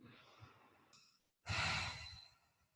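Deep breathing while holding a yoga pose: a soft, drawn-out breath, a brief pause, then a louder, fuller exhale or sigh close to the microphone.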